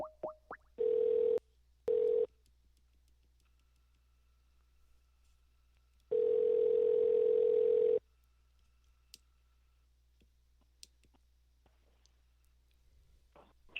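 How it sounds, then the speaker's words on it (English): A telephone dial tone sounds while a live radio show calls its guest: a steady tone in two short bursts, then a longer stretch after a pause, with faint clicks of the line between. "let's get Dennis on the phone"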